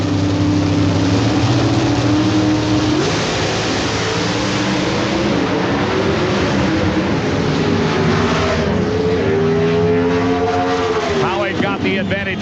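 A drag racing car at the NHRA Slick 50 Nationals in Houston roars through a full run, a loud sustained engine drone with shifting pitch sweeps, under continuous announcer commentary.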